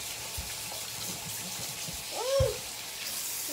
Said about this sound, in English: We have to wash our hands